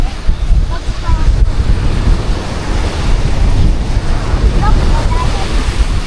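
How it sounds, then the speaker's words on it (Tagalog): Strong ocean waves roll onto a beach in a steady, loud wash of surf, with wind buffeting the microphone throughout and no clear breaks between swells. "grabe yung lakas ng alon"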